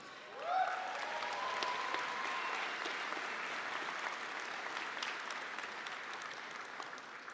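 Sustained applause from a graduation commencement audience honoring CWU graduating students of 2023, steady clapping that swells near the start then holds evenly, with a brief tonal whoop or cheer early on.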